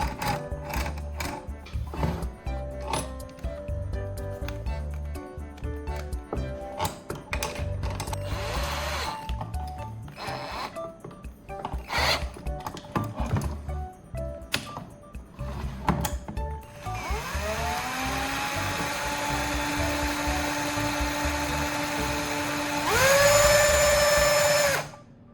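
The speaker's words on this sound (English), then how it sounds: "I'll hook this part to the drill, and when I power it on, it'll do the twisting for me." An electric drill with an eye screw chucked in spins up to twist a part held against a metal bearing, whirring steadily with rising pitch after earlier clatter of handling and clicks, ending in a loud high-speed burst.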